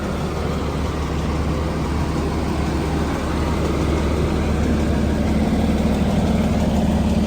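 A fire engine idles while pumping water from a hydrant, relaying to another engine at a Bronx fire, giving a steady, loud low rumble that runs unbroken throughout with no talk.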